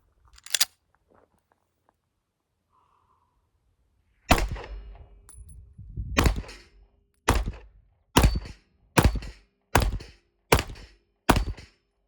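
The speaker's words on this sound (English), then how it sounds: "now let's shoot the CZ, see what we can do." Shots from a CZ 75 pistol fired at steel plates: one early shot, a gap, then eight sharp reports at a steady pace about a second apart, close and loud.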